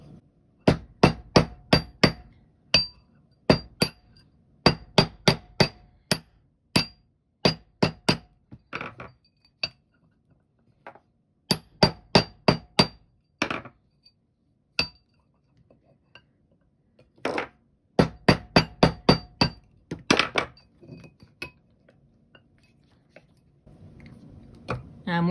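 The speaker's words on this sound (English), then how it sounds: "so we're going to get loud here. I keep pushing it down the mandrel to support it." Metal washer ring hammered on a jewelry mandrel: sharp, ringing clinks struck in rapid bursts of several blows, separated by short pauses, close and loud.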